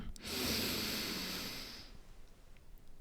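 One slow, deep inhalation during a relaxation exercise, a breathy airy rush lasting about a second and a half, close and clear, then quiet fading breath.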